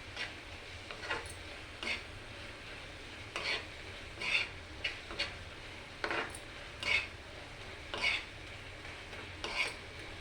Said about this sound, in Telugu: రసం వచ్చే వరకు కాస్త చేస్తూ కలుపుతున్నాం.